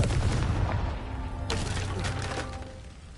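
A Confringo blasting spell in the Hogwarts Legacy video game, a sharp explosive burst with a crackling tail, followed by a few smaller pops and rumbles over a low, steady game background.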